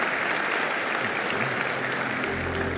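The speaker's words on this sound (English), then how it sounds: "I'd please love to hear a round of applause and thank you to them as well." An audience at the GLMC 2023 conference plenary gives brief, steady applause, a full wash of clapping heard for a few seconds.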